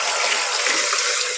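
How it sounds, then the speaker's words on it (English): Steady rush of tap water streaming over a kitchen knife as it is rinsed in a home kitchen, a continuous close hiss with no voices. "Let me rinse my knife off."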